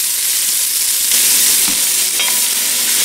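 Two thinly sliced medium onions fry in butter over medium heat in a Dutch oven, making a loud, dense, continuous sizzle, close by, with a few faint stirring knocks and no speech.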